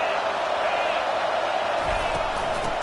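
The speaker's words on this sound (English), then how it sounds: "This crowd bringing the energy and noise early." A football stadium crowd at a UM game roars as a steady, dense wash of noise, loud and sustained throughout.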